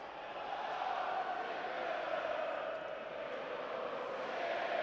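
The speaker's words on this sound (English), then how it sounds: "Elland Road crowd finds its voice here" Elland Road football crowd during a Leeds United pre-season friendly against RB Leipzig, a steady, loud roar of massed voices holding evenly throughout with no clear individual shouts.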